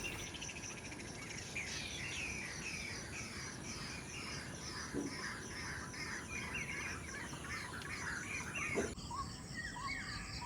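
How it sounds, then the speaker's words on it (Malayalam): Birds calling across an open field on a misty morning, a dense layer of chirps and trills that runs steadily throughout, fairly distant and faint, with an insect-like buzz underneath and no talking. "കണ്ടത്തിൽ നല്ല കിളികളുടെയൊക്കെ സൗണ്ടുണ്ടേ"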